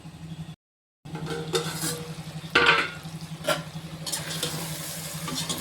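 Mixed vegetables for a vegetable biryani cook in a pan, giving a steady close sizzle with a low hum beneath, a brief silent gap near the start and a few louder clattering scrapes partway through.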